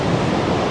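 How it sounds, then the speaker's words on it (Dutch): Waves on the Indian Ocean shore, heard as a steady, loud broadband wash of surf with continuous roar and no distinct breaks, blending with some wind. "Dit is dus de Indische Oceaan."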